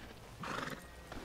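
A horse in Red Dead Redemption 2 gives a short whinny, with faint hoofbeats, quiet and brief, no voices.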